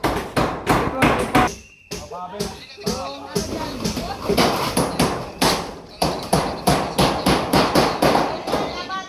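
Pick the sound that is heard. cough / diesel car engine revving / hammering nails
hammering nails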